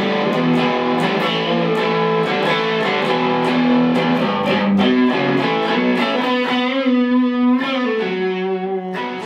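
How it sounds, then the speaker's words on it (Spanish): Electric guitar played through a Rockerbox overdrive pedal, a bluesy classic-rock crunch with sustained chords and picked notes, loud and close, with no talking. "Está dando overdrive, entonces es un sonido un poco más blusero, como más rock clásico."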